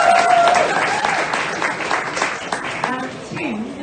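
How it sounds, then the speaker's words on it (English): Audience applause fills the room throughout, a dense continuous clatter of clapping that tapers slightly near the end, with a voice briefly audible over it. "Big clap,"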